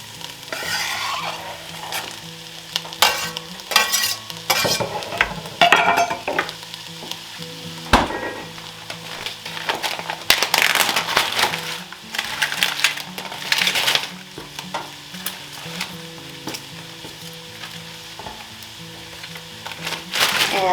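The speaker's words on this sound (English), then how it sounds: "my onion and my pepper are just going to kind of cook here together" Onion and pepper sautéing together in a pan for a Tex-Mex black bean chowder, a steady sizzle broken by frequent scraping stirs and clinks of a utensil against the pan, close and fairly loud with no talking.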